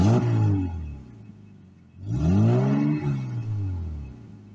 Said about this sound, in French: C'est de lui faire entendre un peu le bruit quand on accélère